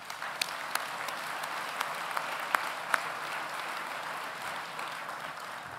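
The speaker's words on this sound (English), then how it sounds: "Let's have a round of applause for these incredible groups of Plymouth supporters." Steady round of applause from an audience of supporters at an indoor community event, continuous clapping at moderate distance with a few sharper individual claps standing out, no talk over it.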